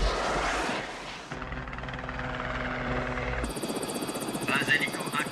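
A helicopter drones overhead in a stormy offshore scene, its steady rotor hum and whine sustained throughout, joined by wind and surf noise with voices over the radio.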